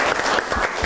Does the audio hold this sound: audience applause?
yes